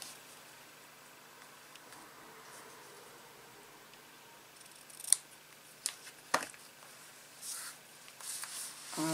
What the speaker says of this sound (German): Auch hier schräge ich mir die Enden einmal ab.